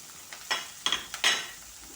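Sliced onion and slit green chillies hit hot coconut oil in a pan, sending up a few short bursts of sizzle with light stirring clatter, close and brief, with no one talking.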